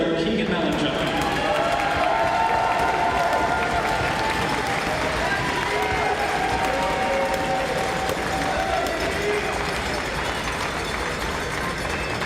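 Crowd applause and cheering fill the stands at a Minto Cup junior lacrosse game between the Edmonton Miners and Whitby Warriors, a steady dense roar of clapping with bits of announcer talk over it throughout.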